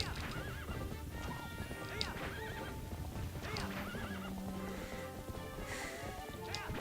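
A horse in Zelda: Twilight Princess HD whinnies several times over steady galloping hoofbeats and game music, loud and continuous throughout.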